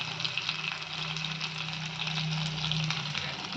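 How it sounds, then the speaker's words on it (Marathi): Mutton sizzles in hot oil inside a pressure cooker, a steady, close frying crackle and hiss throughout with no talk. "आता आपण गरम तेलात हे मटण टाकणार आहोत।"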